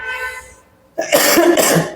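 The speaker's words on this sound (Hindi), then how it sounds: "सॉरी, थोड़ी सी खांसी वगैरह आ रही है" A single close cough with a throaty rasp follows a brief hum and a short silence.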